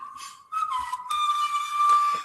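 A person whistles a high tune in short sustained notes, breaking off briefly before carrying on, with faint rustling underneath.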